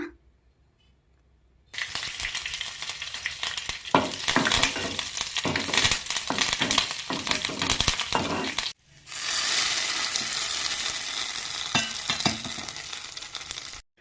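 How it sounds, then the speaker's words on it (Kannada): Mustard seeds, dried chillies, curry leaves and chana dal hit hot oil for a tempering, setting off a loud, dense crackling sizzle with sharp pops. Two bursts follow a short silence, separated by a brief pause, and no voice is heard. "ಒಂದು ಪಾತ್ರೆಗೆ 1 3 ಸ್ಪೂನ್ ಆಯಿಲ್, ಸಾಸಿವೆ, ಒಣಮೆಣಸಿನಕಾಯಿ, ಕರಿಬೇವಿನ ಸೊಪ್ಪು, ಕಡಲೆಬೇಳೆ ಎಲ್ಲ ಹಾಕ್ಕೊಂಡು ಒಗ್ಗರಣೆ ಮಾಡ್ಕೊಳ್ಳೋಣ"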